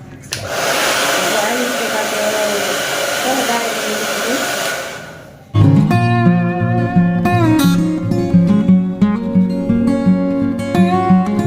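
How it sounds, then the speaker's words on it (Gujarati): A hair dryer blows steadily in a beauty parlour, close and loud for about five seconds, then cuts off abruptly and music takes over. "અત્યારે હું ડ્રાયર કરું છું"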